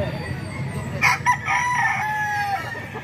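A ten-month-old Hatch gray gamecock rooster crows once nearby, a rising then sustained cock-a-doodle-doo over quiet background noise.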